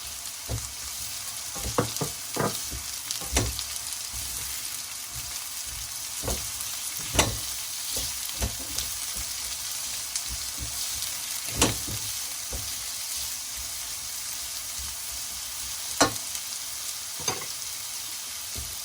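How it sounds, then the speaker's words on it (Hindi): Red onion frying in a pan with nearly soft potatoes, a continuous loud hiss of sizzling oil punctuated by occasional crisp pops and stirring clicks, no talking. "अब हम इसमें रेड अनियन डाल देंगे।"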